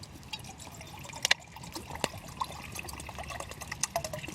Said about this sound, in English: let's measure the water